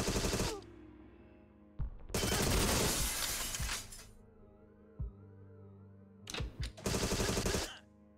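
Gunfire in the video game Agent 64: Spies Never Die comes in three loud bursts of rapid automatic shots separated by quieter gaps, with no talking.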